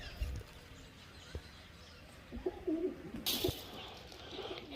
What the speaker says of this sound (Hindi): अंदर कबूतर बैठे भी हैं।